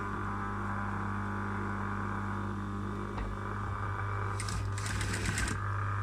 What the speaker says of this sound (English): I'm only sewing through the seam allowance